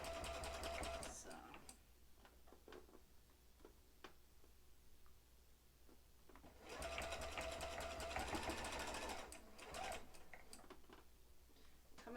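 A sewing machine stitches fabric strips in two rapid, steady runs of close ticking needle strokes, with quieter handling and low speech-like sounds in the pause between them.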